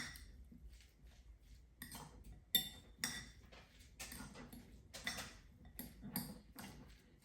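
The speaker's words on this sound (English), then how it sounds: "I'm going to mix all this up now" A salmon, mushroom, potato and green onion filling being mixed in a dish, with quiet repeated clinks and scrapes of a utensil against the bowl in an irregular rhythm, faint and close.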